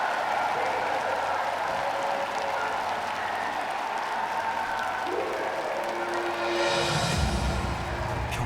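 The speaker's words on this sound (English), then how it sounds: "Let's give a big round of applause for the officials of the stadium for their cooperation." Applause from a crowd in a stadium at a world peace summit ceremony, a steady broadband wash of clapping that carries through most of the span and swells louder toward the end.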